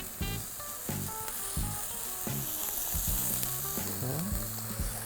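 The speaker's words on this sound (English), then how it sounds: "We just wanna get a nice color, a nice sear on the pork chops" Pork chops searing in a hot cast iron pan give a steady close sizzle, and music plays underneath.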